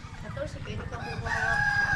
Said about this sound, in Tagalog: Tignan nyo daw yung mga manok.